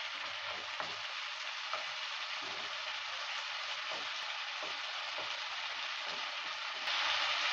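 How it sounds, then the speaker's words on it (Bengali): Spice paste of ginger, onion, green chilli and tomato fries in a pan with a steady, even sizzle, stirred with soft periodic scrapes throughout. "এবার দিয়ে দিচ্ছি পেস্টটা দেওয়ার পর নেড়ে চেড়ে নিচ্ছি।"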